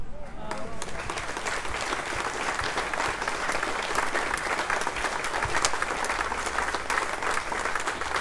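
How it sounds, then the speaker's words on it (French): Sustained audience applause fills a prize-giving ceremony for the Golden Globe Race 2022 sailing event, dense and steady clapping from a large crowd throughout, with a faint voice at the very start. "encore des bravos et des applaudissements pour Kirsten Neufschäfer, s'il vous plaît."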